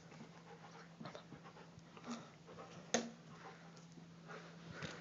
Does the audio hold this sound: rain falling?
no